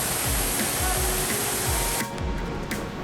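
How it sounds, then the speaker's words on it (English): Prut waterfall in Sohra, Cherrapunji, roars as a steady, dense rush of thundering water, loud and continuous throughout, with the noise easing slightly partway through but never stopping. "Can you hear the thundering sound of the falls?"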